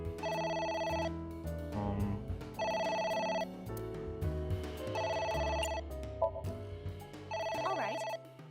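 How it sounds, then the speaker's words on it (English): Telephone ringing in the video game AI: The Somnium Files, a bright electronic ring repeating in four evenly spaced bursts over low background music, loud and close. "ringing again. What should I do?"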